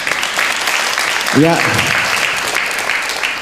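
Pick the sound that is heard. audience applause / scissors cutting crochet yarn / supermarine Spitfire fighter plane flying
audience applause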